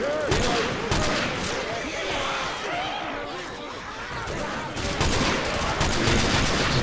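Dense rapid gunfire from Left 4 Dead 2, a sustained fusillade of overlapping shots and bursts that continues throughout, loud and close with chatter underneath.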